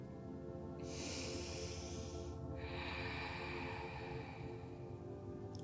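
Deep, steady breath drawn in and let out during a yoga practice, close and clear over a constant soft hiss, with no talking.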